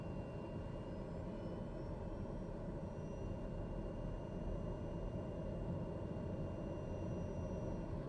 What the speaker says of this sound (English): We'll wait till our RPMs spool up there a little bit.